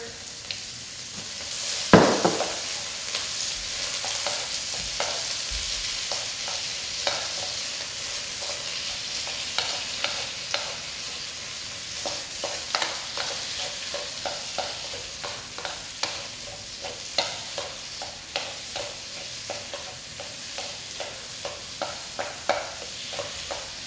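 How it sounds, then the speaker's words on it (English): Bean sprouts and mushrooms stir-fry in a pan with a constant close sizzle, punctuated by frequent rhythmic clicks and scrapes of a utensil tossing the food. "Toss in the bean sprouts. Got some mushrooms here."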